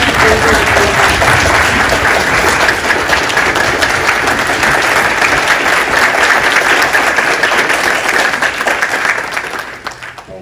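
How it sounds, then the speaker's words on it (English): An audience at a nurse residency program graduation ceremony gives a standing round of applause: loud, dense, sustained clapping filling a hall, fading slightly at the end. "please stand and give Ann a round of applause"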